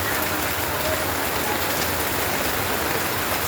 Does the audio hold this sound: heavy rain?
yes